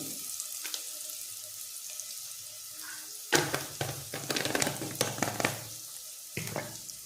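Chili powder masala sautés in a pan for chickpea aamti: a quiet sizzle at first, then a louder burst of crackling and stirring that runs for a few seconds before easing off. No talking.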